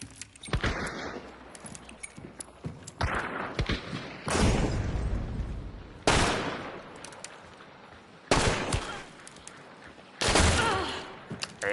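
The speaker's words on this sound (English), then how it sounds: "I'm gonna reload my pistol." Pistol reload clatter in the game Hunt: Showdown, followed by four loud, sharp gunshots spaced a couple of seconds apart, each ringing out with a short decaying tail.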